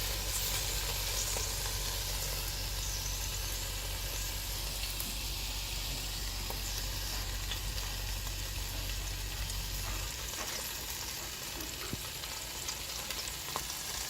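Food sizzles and fries steadily on a Ninja Foodi grill, a dense, continuous crackling hiss with a low rumble beneath that drops away near the end, close and fairly loud with no talking.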